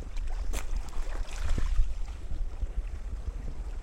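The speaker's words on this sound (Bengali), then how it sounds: "দেখো আওয়াজটা দেখো, ও ঢেউটা দেখো, হ্যাঁ ঢেউটা দেখা যাচ্ছে" Sea waves wash onto a beach near Bakkhali, West Bengal, at night, a low rumbling surge mixed with wind buffeting the microphone, fairly quiet and continuous.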